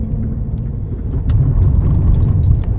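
A continuous low rumble of road traffic, with vehicles passing nearby and the noise swelling louder partway through.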